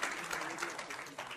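An audience gives sustained applause, a dense spread of clapping hands that continues at steady strength for the whole short span, with a voice faintly mixed in.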